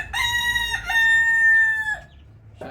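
An upgraded native rooster crows once loudly and close, a long harmonic cock-a-doodle-doo with a short break near the start, ending in a brief falling note and quiet pause.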